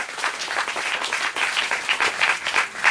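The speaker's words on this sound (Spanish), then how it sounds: "darles un fuerte aplauso al Señor por ellas" Warm applause from a church congregation during a sermon, many hands clapping in a lively uneven patter that swells slightly toward the end, close and moderately loud, with no speech.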